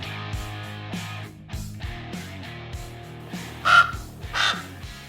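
A crow caws several times in irregular bursts, the harsh calls fairly close and clear over a quiet background, with a louder pair of caws near the end.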